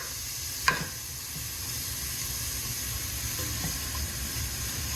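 Vegetables frying in rendered bacon fat for a beef and bean chili, a soft continuous sizzle with a single sharp clatter of stirring near the start, no voices.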